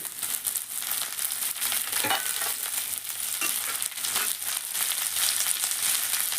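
Onions and curry leaves fry in a pan with a steady, loud hiss, broken by occasional stirring and scraping. No one speaks.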